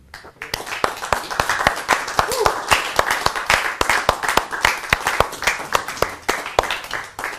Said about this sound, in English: So don't expect immediate applause, but you'll get it sort of row by row.